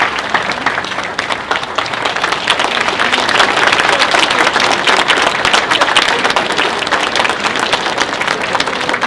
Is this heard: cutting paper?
no